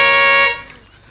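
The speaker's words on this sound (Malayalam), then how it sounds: "റിസീവറുടെ ഹോണല്ലേ ഇത്?" A car horn blares in one loud, steady tonal blast for about half a second, then cuts off into a quiet, fading background.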